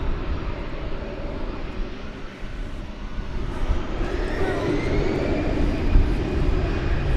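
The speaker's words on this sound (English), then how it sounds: "Well, there goes a plane." An American Airlines Airbus A319 jet taking off at Dallas/Fort Worth airport at night, a broad steady engine roar that swells slightly as it climbs, heard from a distance without talk.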